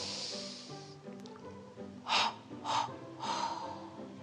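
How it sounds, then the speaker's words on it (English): Three sharp nasal inhalations during a children's Christmas yoga breathing exercise, each a short breathy rush about half a second apart, fairly close, over soft background music with no talking. "Breathe in through your nose."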